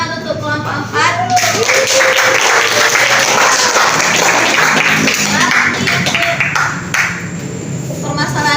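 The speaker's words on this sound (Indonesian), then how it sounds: "Tepuk tangan untuk kelompok 4" Classroom students clap for a group in a lively burst of applause that swells after a moment of talk and holds steady, loud and close, before tapering off.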